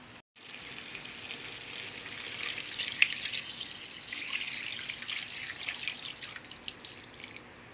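Water pours steadily into a pot of beef caldereta, a continuous hissy splashing that swells a little partway through, with no talking.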